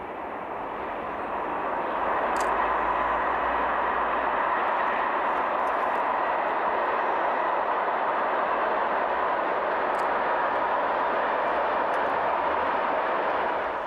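Well-laden freight train on the Brenner route in Italy, a broad continuous rumbling roar that swells in the first seconds and then holds steady and loud, with a few faint high squeals.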